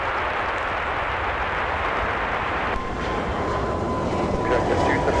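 A plane taking off from runway 30 left at Minneapolis airport on a winter day gives a loud, broad, continuous jet roar that holds steady and then rises slightly, with a thin whine emerging partway through.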